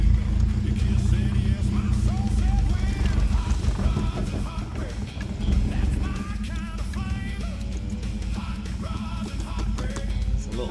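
A vehicle with a freshly swapped carburetor drives along a gravel road, its engine rumbling steadily while tires crunch over loose stones, close and loud, with someone speaking briefly.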